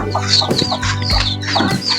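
Chickens and ducks clucking close by at feeding time, a busy, continuous stream of overlapping calls with no talk.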